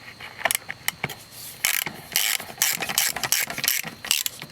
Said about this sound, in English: You're going to take your 14mm wrench here.